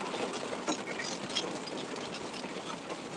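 Heavy hail pounds down during a severe storm, a dense, loud, continuous patter of rapid impacts with sharper clatters scattered throughout and no voices.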